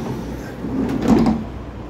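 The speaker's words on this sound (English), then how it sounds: "Side sliding doors." The side sliding door of a Volkswagen Caddy van rolling along its track, a single short rumbling slide with a soft thud, heard close up and alone.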